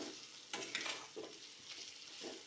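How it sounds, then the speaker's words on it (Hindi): Kofta in gravy being stirred and fried in a pan, giving a faint, soft sizzle with a few scraping strokes of the spoon. "देखिए इसमें डाल के थोड़ी देर इसको भूनेंगे"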